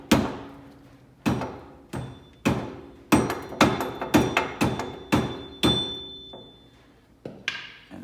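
A hammer strikes a stuck part on a Hyundai Genesis Coupe in about a dozen sharp, close metallic blows. The irregular rhythm has short pauses, each hit ringing briefly before the next, with no talk.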